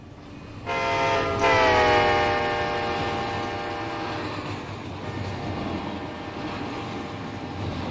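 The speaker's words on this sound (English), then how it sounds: "the new roll-by sounds are nice. Huge improvement." A freight train rolls past in the Run 8 train simulator game, with a loud sustained multi-tone horn blast at the start over steady rumbling wheels and cars that fade slightly as it passes.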